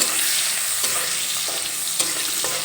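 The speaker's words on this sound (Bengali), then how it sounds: "এখন এর মধ্যে একটা মিডিয়াম সাইজের পেঁয়াজ কুচি দিয়ে দিলাম পেঁয়াজ কুচি দিয়ে একটু নেড়ে চেড়ে নেব" Chopped medium-sized onion sizzles steadily in a pan, with soft scraping stirs of a spatula every second or so over the continuous frying hiss.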